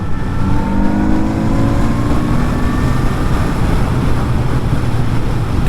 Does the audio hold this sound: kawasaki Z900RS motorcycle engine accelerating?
yes